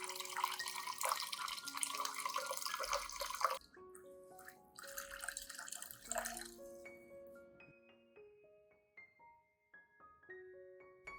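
Clean water, about 500 milliliters, poured into a garlic and coffee grounds solution to dilute it, with two bursts of splashing pouring followed by quieter trickling and dripping, and no voices.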